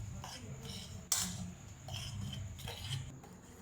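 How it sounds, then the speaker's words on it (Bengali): Dry ingredients for beguni batter are stirred in a bowl, producing quiet rubbing and scraping with a single sharp clink of utensil against the bowl, faint and close. "সুন্দর করে এটাকে শুকনো উপকরণগুলো আগে মিশিয়ে নিচ্ছি"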